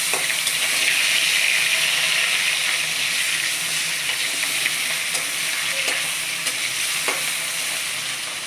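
Rohu fish parboiling in a pot of boiling water on a home stove, giving a steady, close, bubbling hiss with light sizzle that holds evenly throughout, no voices.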